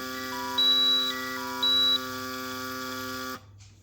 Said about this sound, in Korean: 방금도 알람이 울렸을 때